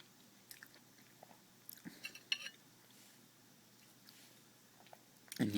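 Close, soft chewing of tilapia fish, with a few quiet, scattered bites and light clinks of cutlery or a plate, then a louder clatter near the end.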